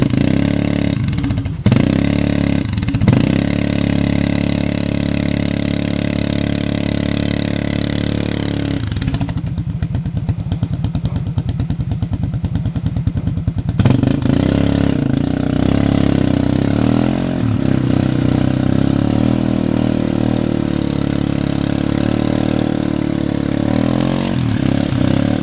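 A Yamaha Grizzly 660 ATV on Supergrip tires, stuck in mud, drones loudly and close as its engine revs and holds high, easing off briefly midway before surging again.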